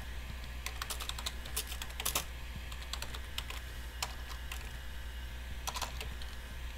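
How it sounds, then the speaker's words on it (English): A chat message is typed on a computer keyboard, with quick irregular bursts of close key clicks over a low steady hum and no talk. "let's type this message in"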